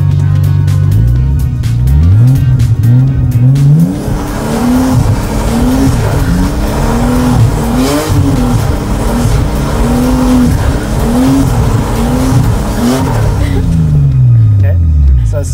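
A car engine revs and wails up and down continuously while tires squeal through a long slide, loud and close throughout.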